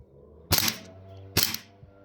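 Two sharp cracks of an airsoft pistol, a VFC FNX45, fired about a second apart at close range, each with a brief ringing tail, with no talk.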